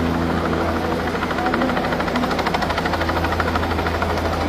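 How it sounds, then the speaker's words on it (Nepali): A rescue helicopter hovers over a flood-stranded house in Rasuwa, lifting a child from the rooftop; its steady, loud rotor thump and engine drone fill the whole stretch without pause. "बाढीमा फसेको घरमा माथि छतमा फसेको एउटा बच्चालाई चाहिँ हेलिकप्टर आएर उद्धार गर्दैछ।"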